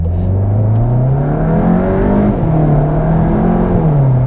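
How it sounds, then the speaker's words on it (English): A Mk7.5 Volkswagen Golf GTI on Pirelli tyres pulls away hard from a standing start, its engine loud and close with a steady rising drone that climbs through the revs and dips briefly at a gear change, with no talking. "Let's just do a standing start again now."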